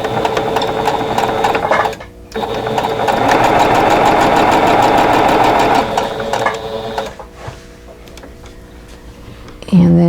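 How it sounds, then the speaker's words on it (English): Domestic sewing machine stitching quilt block pieces, a loud steady mechanical whir running for several seconds, pausing briefly, then resuming before winding down near the end with a faint clack. "I want to stitch through here"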